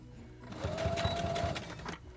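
Sewing machine stitching fabric for a face mask, a close, quick mechanical whir that runs for a couple of seconds and then stops, with no talk.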